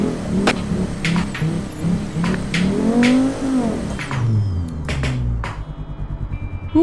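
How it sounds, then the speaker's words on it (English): A sports coupe in BeamNG.Drive revs hard, engine pitch rising and falling as its exhaust pops and crackles in sharp bursts, loud and close, before settling into a lumpy, burbling idle. "It's making an awful lot of poppy noises."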